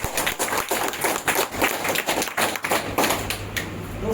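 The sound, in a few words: audience clapping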